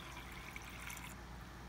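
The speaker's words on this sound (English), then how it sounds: "And I pour in the water" Distilled water pours softly into an 8-ounce measuring cup, a faint continuous trickle and splash heard alone at low level.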